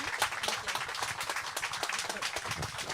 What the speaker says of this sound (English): Please help me with the warm applauses to our speakers today